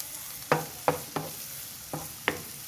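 Onion and garlic sautéing in a pan, heard as a few sharp stirring scrapes and clacks against a quiet background with a faint sizzle, with no talk.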